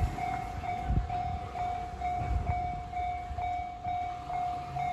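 A train rolls past a level crossing near Sano Station, Tochigi, with a steady rumble and low thumps, while the crossing's bright, sustained warning tone rings continuously over it.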